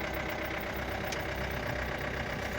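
A Mahindra Bolero pickup engine idling, a steady, even low rumble that holds at constant loudness throughout, close by with no talking.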